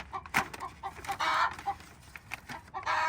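A hen clucks and sings in short repeated bursts, close and fairly loud, with uneven rhythm and brief pauses between calls.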